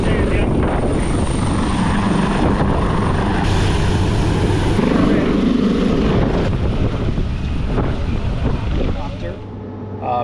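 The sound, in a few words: helicopter flying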